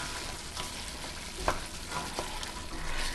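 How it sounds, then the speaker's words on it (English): Onions and peppers sizzling in a pot while being stirred, with a constant frying hiss and scattered scraping clicks, heard alone without talk. "So here we have our onions and our peppers. I'm just going to drop those right in there."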